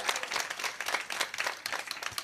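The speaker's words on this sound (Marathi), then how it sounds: "वाजवा टाळ्या." An audience clapping at a Marathi kirtan, a fairly faint, fast irregular patter of many hands that carries on steadily for a couple of seconds without talk.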